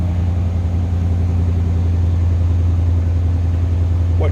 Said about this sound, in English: What you'd expect a 92 Camaro with a 305 to sound like.